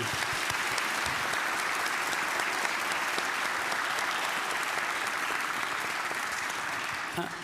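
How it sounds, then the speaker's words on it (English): Sustained applause from an audience, steady and full for several seconds before tapering slightly at the end. "Let's give them all a warm round of applause for joining us today."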